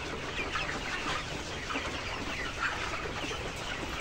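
Chickens on a layer poultry farm, 65-day-old pullets, cluck constantly amid a dense, even hiss of farm noise, with scattered sharper calls rising from the crowd.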